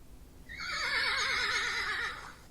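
A horse neigh played back as a sound effect rings out loud and alone, one long quavering whinny lasting about a second and a half.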